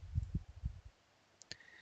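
A couple of sharp, faint mouse clicks near the end, clicking the merge pull request button, after a few soft low thumps of handling.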